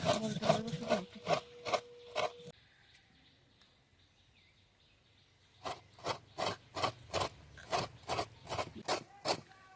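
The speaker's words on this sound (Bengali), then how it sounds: "এবার লঙ্কা কটা বেটে নেব।" Green chilies are ground on a grinding stone in rhythmic rasping strokes, close and clear. A quick burst of strokes is followed by a pause, then a longer run of evenly spaced scrapes.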